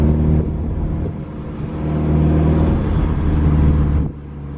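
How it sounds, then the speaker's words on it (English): Engine of a Toyota tC fitted with a short ram intake, a steady loud droning run that surges and holds for several seconds before easing off abruptly near the end, no voices. "Why make that sound? It's probably turbo."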